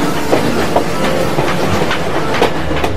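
A train runs along a railway with a steady rumbling roar and rhythmic clickety-clack from the wheels, loud and continuous.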